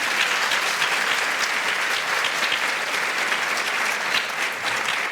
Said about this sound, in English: Ladies and gents, please give Kelvin a round of applause.